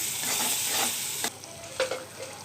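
Ginger garlic paste fries in a pan for an egg dum masala curry, with a steady hiss of sizzling. A few scraping stirs come through, one louder clack near the middle, and no talk.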